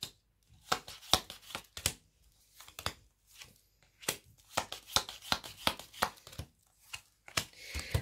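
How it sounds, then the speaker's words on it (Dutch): Tarot cards handled during a Dutch-language reading, with crisp papery snaps, shuffles and slides of a card pulled from a deck, in quick irregular bursts that are close and fairly quiet, with no talking. "ik moet hier nu een kaart uittrekken"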